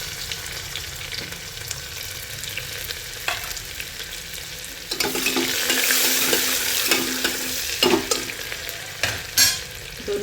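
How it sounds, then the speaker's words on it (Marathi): Mustard seeds, cumin, curry leaves and onion fry in hot oil in a pan for misal. A steady, close sizzle swells louder partway through, broken by a few scraping stirs and no speech. "इथे मोहरी टाकून घ्यायची आहे, जिरे टाकायचे आहे, कढीपत्ता, कांदा टाकून घ्यायचा आहे"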